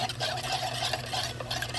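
A spoon stirs a seasoning mixture for bamboo shoots in a small bowl, a soft continuous scraping and swishing heard close by with no talk.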